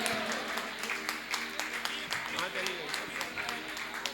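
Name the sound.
audience applauding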